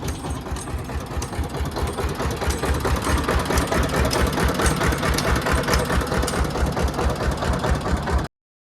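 A Mahindra tractor engine chugs loudly at a steady idle, its rapid rhythmic thumping continuous until it cuts off abruptly.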